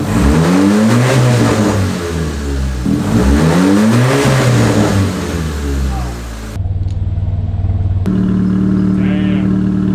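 A turbocharged car engine revs in a series of rising and falling bursts, loud and close, with dump-valve releases between pulls, then settles into a steady, deep running drone.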